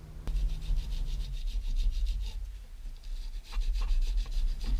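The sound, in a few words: scrubbing grease and dirt off a VW master cylinder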